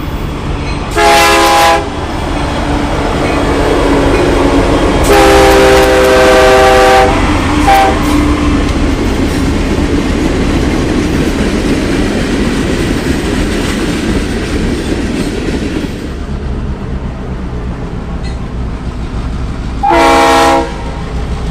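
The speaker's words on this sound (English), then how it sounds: "NS 117 is led by the Union Pacific Olympic Torch Relay commemorative locomotive," A Norfolk Southern freight train led by the Union Pacific Olympic Torch Relay commemorative locomotive heads west through Fairborn, Ohio. Its horn gives several loud blasts over a continuous, close, rumbling roll of passing cars with rhythmic clatter.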